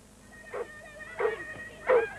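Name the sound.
lurcher dogs barking, greyhound and collie crossbreeds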